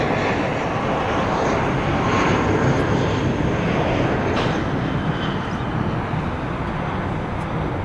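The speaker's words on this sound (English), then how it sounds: "It's a 16-year-old 747-400" A 16-year-old Boeing 747-400 airliner at LAX, its jet engines producing a steady, broad, loud roar that stays even throughout without talk.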